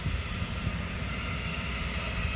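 A helicopter engine drones steadily and continuously, a constant low mechanical roar with no breaks.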